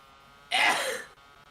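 A single sneeze, sudden and breathy, bursting out halfway through and trailing off, against otherwise quiet background.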